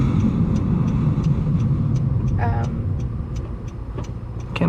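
A 9th gen Honda Civic Si with its muffler deleted, heard from inside: a constant loud, deep exhaust and engine rumble with faint ticking throughout.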